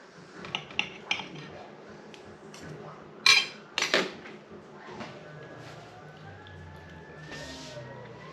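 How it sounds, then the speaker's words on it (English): A butter knife scraping and clinking against a plate while cutting tender pork roast, a few sharp metallic taps and clatters spread over quiet room tone. "So tender, I'm cutting it with a butter knife"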